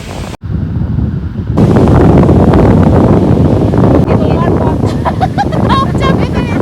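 Waves and wind at a seashore at night, a steady broadband roar with wind buffeting the microphone after a brief quiet start, and faint voices in the latter part.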